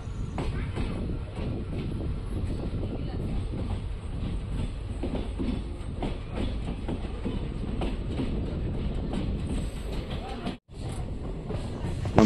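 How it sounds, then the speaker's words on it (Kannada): A train on the Chikkamagaluru–Shivamogga line pulls into Birur Junction with a steady, loud rolling rumble and rhythmic wheel clatter. The noise carries on continuously, with only a brief dip near the end. "ನಮ್ಮ ಟ್ರೈನ್ ಈಗ ಬೀರೂರು ಜಂಕ್ಷನ್ ಒಳಗೆ ಬರ್ತಿದೆ."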